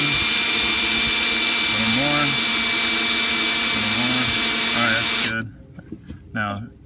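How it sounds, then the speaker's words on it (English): A power drill runs continuously while boring into a recycled wooden baby crib, a loud steady whine that cuts off near the end, with voices speaking during and after. "Just push a little bit while you're drilling."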